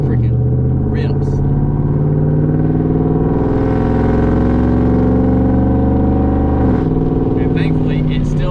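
A tuned truck with a full exhaust revs and pulls hard under acceleration, a loud, deep droning engine note rising steadily in pitch before a shift drops it, with the driver talking over it.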